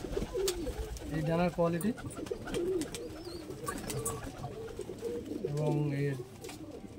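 Old-breed Giribaj pigeons coo in soft, repeated throaty bursts close by, heard beneath someone speaking steadily throughout.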